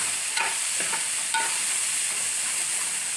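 Chopped tomatoes fry with a pinch of salt in a pan, giving a steady soft sizzle with a few gentle scrapes of a spoon stirring them, close and even throughout.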